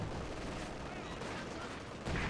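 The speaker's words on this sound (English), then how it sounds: "MG's opening fire, no arm piercing round, so you're fine." Faint, distant machine gun fire from Company of Heroes 2 rattles in rapid bursts beneath a low battlefield rumble, short and muffled throughout.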